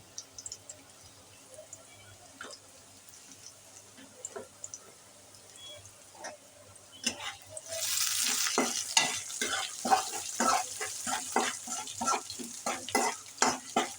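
Onion frying in a pan with salt: quiet clinks and scrapes at first, then a louder, continuous sizzle sets in halfway, with repeated stirring strokes through it, close by and without talk.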